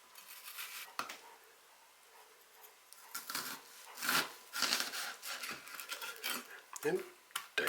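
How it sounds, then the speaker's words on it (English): A knife chops straight down through an onion on a cutting board, dicing it for tacos in a quick run of close, sharp taps and scrapes that builds after a quieter start. "Just go straight down with your knife,"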